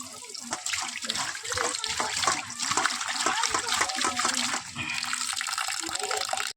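Water splashing and running steadily while fresh fish is rinsed clean, a continuous close wash of liquid with small irregular splashes and no voices.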